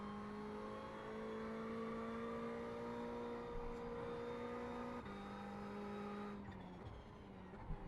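A race car in the iRacing sim at Daytona road course brakes into a corner, engine whining with steady harmonic tones while the tires squeal; the pitch drops sharply mid-clip as it slows, loud and continuous with no talk.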